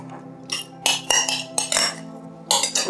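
Yogurt and egg being stirred into olive and cheese scone dough in a bowl, heard as a run of close, bright clinks and scrapes of a utensil against the dish in irregular bursts, with no talking.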